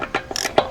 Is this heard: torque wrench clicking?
yes